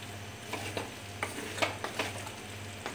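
Chicken for chicken thoran being stirred in a pan as its liquid cooks off, a faint soft sizzle with light irregular scraping clicks and a low steady hum beneath.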